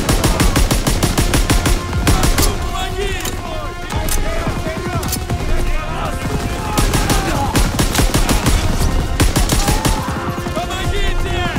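Bursts of machine gun fire crackle amid a battle in Call of Duty: WWII, rapid rattling volleys repeating with brief gaps, loud and close, with shouted voices mixed into the combat.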